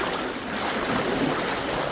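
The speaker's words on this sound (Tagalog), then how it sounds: "yung nasa likod lang namin is ilog and dito dumadaloy yung tubig" Strong floodwater current of a swollen river rushing past a flooded house, a dense continuous wash of water noise, steady and close, with no voices.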